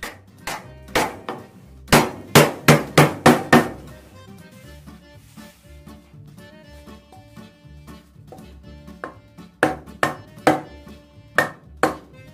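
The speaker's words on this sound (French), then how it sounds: "Donc j'utilise un marteau et une cale en bois." Sharp hammer blows struck through a wooden block onto an aluminium profile, part of building guide rails for a cutting sled: a quick burst of six loud impacts, a quieter pause, then another series of spaced knocks.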